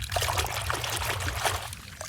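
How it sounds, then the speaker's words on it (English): A toy cement mixer truck is shaken in water, giving a continuous splashing, trickling wash with brief gurgling pulses throughout, close and steady, with no talking. "Now I have to put it in water. I shake it"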